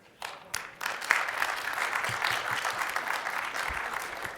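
Hacker conference crowd at ShmooCon breaks into applause after a quiet start, a few early claps swelling into sustained, moderately distant clapping from a seated audience, no talking over it.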